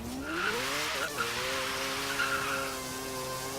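A 1990 Mazda Savanna RX-7 rotary in Forza Horizon 3 launches off the e-brake, tires squealing loudly as the engine revs climb in a rising, steady whine that carries throughout, with no talking.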